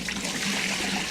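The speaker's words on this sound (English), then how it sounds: "And now we're going to drain the chicken out of the brine." Brine water pours and trickles off chicken as it drains, a brief, close, continuous splashing rush.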